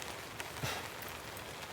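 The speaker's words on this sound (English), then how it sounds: "The rain's back." Steady rain hissing down on a camp in a storm, a dense even wash of drops with a few slightly louder patters, fairly quiet and continuous with no voices.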